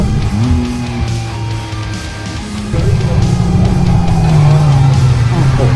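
A McLaren Artura supercar on a race track, its engine droning loud and steady with rising and falling tones as it accelerates through corners, the pitch climbing strongly toward the end, heard from inside the car.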